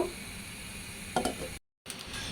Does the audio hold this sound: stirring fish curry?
yes